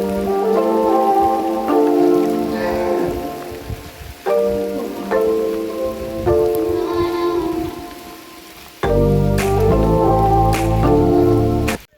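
Heavy rain falls on a trekking trail at Kunagal Betta near Bangalore, a loud, steady hiss that breaks off briefly around the middle and then returns just as strong.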